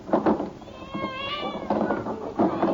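Cats meowing from inside a delivered box in an old sitcom scene. A couple of close, clear meows are heard over a muffled background, with no clear speech.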